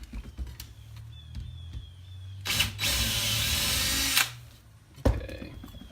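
A power drill bores a hole through aluminum, a steady high grinding whine lasting nearly two seconds amid softer handling clicks and low hum, ending with a sharp clack as the bit breaks through or is set down.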